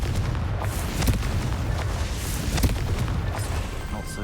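A Confringo fire spell blasts in the Hogwarts Legacy video game, a dense rumbling explosion with heavy low booms and crackling bursts layered over a sustained roar, loud and close throughout.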